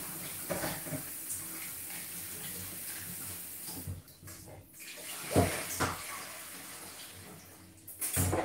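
Steady running tap water splashes over potatoes being washed in a kitchen sink, a continuous close hiss with occasional louder sloshes and handling knocks; nobody speaks.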